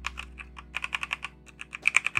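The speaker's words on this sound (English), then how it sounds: "This is a keyboard powered by SteelSeries. It's a nice keyboard, but it's still membrane" A SteelSeries membrane computer keyboard is typed on in quick, irregular bursts of soft, close keystrokes, with no talking.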